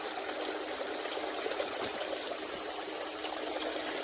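Water runs steadily from an intake pump set in a silt-filling hole and pours into a bucket, making a loud, unbroken close rush and splash that holds evenly throughout with no voices.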